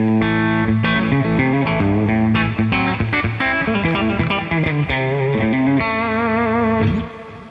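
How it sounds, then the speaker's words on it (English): Overdriven electric guitar playing a steady chordal riff, loud and sustained with a warm, crunchy edge, no voices, fading at the end. "that's the overdrive, not the distortion"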